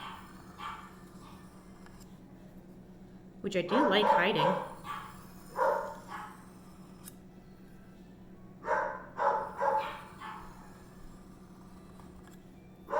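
A dog barks excessively indoors in bursts of several loud barks, with quieter yips and whimpers between them, over a steady low hum, while a person talks.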